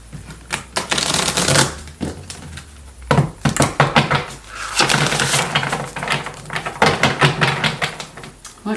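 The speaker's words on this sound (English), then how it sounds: "Let me give this a quick shuffle." A tarot deck is shuffled by hand in quick bursts of crisp riffling and snapping card flicks, close and loud, broken by short pauses, with no talking.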